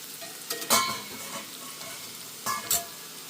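Onions, fenugreek seeds and green chillies fry in oil for a salmon fish pickle, giving a steady close sizzle. Two pairs of sharp scraping stirs cut through it.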